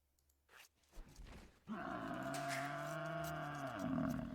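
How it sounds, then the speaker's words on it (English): Cattle in a video game moo in a long, loud, drawn-out call with a rising then falling pitch, preceded by a few brief quiet sounds. "All I can hear are cows."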